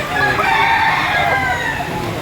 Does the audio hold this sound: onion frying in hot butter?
no